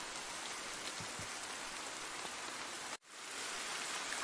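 Steady, dense rain pours down on surfaces in a horror novel video game, a continuous hiss with one brief dropout before resuming.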